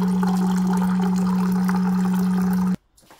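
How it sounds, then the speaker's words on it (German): Filtered water pours steadily into a Thermomix TM5/TM6 bowl, a close, continuous rushing flow with a strong steady hum beneath, cutting off abruptly near the end. "200 Gramm Wasser und da kommen genau die 200 Gramm raus, die ich brauche."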